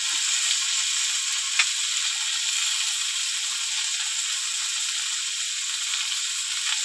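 Vegetables sautéing in a pan, a steady thin hiss of frying that holds evenly throughout with one faint tick near the start, moderately close and with no talking.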